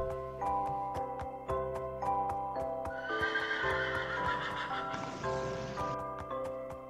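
A Minecraft horse trots with evenly spaced clip-clop hoofbeats, then lets out a clear whinny partway through, all over soft background game music.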